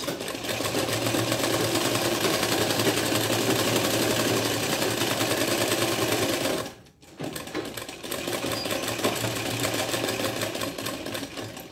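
A sewing machine stitches a quarter-inch seam along a fabric edge, a loud steady mechanical whir that halts briefly partway through and then resumes running at the same pace.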